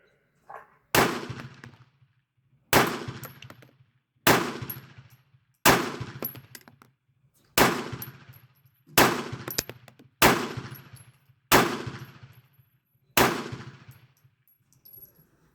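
CZ 70 pistol firing factory ammunition at an outdoor range, nine sharp, loud shots spaced about one to two seconds apart, each followed by a short ringing decay.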